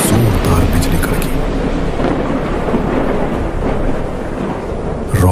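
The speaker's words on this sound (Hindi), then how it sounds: "तभी आसमान में जोरदार बिजली कड़की।" A loud rumbling thunderstorm with heavy rain hissing throughout, a deep roll of thunder filling the whole stretch.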